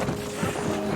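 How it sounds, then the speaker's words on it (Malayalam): Wind gusts across a hilltop at Nandi Hills near Bangalore, a faint, brief rush of air buffeting the microphone with a low rumble. "കാറ്റ്."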